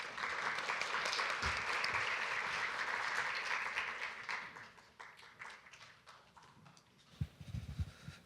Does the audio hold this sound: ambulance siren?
no